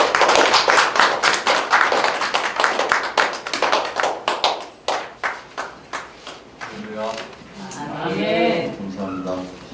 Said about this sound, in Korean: 큰 박수로 환영하도록 하겠습니다.